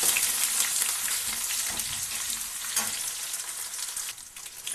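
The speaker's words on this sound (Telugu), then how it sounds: "తర్వాత కరివేపాకు, ఎండుమిర్చి, మనం కట్ చేసుకున్న ఉల్లిపాయలు, వీటి మొత్తాన్ని ఒకసారి కలుపుకుందాం." Curry leaves, dried red chillies and chopped onions frying in hot oil while being mixed, a loud close sizzle with crackling bursts and soft stirring scrapes throughout, no voices.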